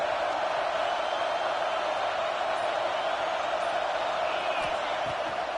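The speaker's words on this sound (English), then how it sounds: "This crowd ready to make its presence known." Football stadium crowd at an early-season Michigan Wolverines game, a steady, dense roar of many voices that holds at an even level throughout, broad and distant-sounding with no single voice standing out.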